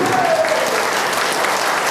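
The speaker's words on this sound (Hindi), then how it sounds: "जोर से जब ताली बजेगी" Loud clapping from a training-session audience, a dense, sustained wash of applause filling the room, with faint voices mixed in beneath it.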